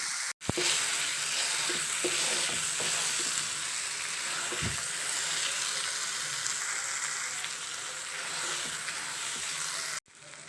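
Vegetables with peanuts dry-frying in a pan give a steady, close sizzle throughout, with faint scraping stirs now and then and no voices.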